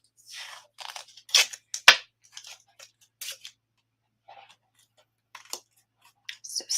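Scissors cut through white cardstock for Halloween card layers, two elements at once, giving a series of close, crisp snips and crunchy slices in short irregular bursts separated by quiet pauses.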